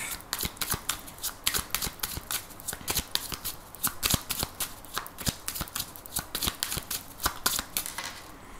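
A 32-card deck of playing cards is shuffled repeatedly, giving a steady run of crisp riffling snaps and flutters close by, with no voice over it.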